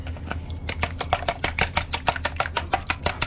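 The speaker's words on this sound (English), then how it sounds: "Now let's start whisking." Custard pie filling being whisked in a bowl for a Samoan custard fruit pie, a fast, steady run of close, crisp metallic taps and scrapes going on alone.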